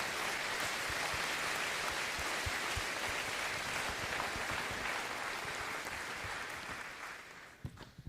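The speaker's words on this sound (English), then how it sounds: "So let's give Gary a big round of applause." A crowd at a town hall meeting in Newport, Oregon claps steadily in a dense wash of applause that fades toward the end, leaving a few last scattered claps.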